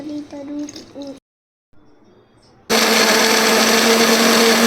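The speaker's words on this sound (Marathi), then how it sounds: "हे बघा मिक्सरला हे फिरून घेतलेले" Quiet clinking and a brief hush give way to a loud, steady mixer grinder blending milk and dry fruits, whirring continuously at close range.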